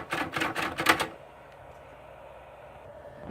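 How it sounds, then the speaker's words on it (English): An L C Smith & Corona typewriter under repair gives a quick run of sharp mechanical clacks and rattles as its carriage and backspace are worked, then falls to near silence. "Why the carriage won't go back with the backspace."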